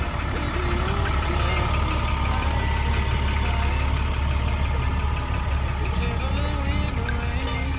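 A large diesel engine in a new Kiira Motors bus idles steadily with a deep, constant rumble and a faint whine on top, no voices over it.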